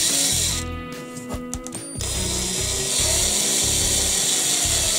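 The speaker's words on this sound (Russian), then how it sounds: "Зажимаем гвоздик в патрон шуруповерта" A cordless screwdriver spins a nail clamped in its chuck, drilling into a thin wooden strip, producing a close, loud grinding whir with ratcheting clicks and a short pause partway through.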